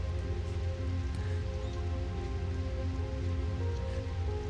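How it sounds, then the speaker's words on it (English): Steady rain patters continuously with low rumbling underneath in the video game Nightmare Market; no distinct thunder crack stands out. "Oh, thunder. It didn't look like it was going to rain."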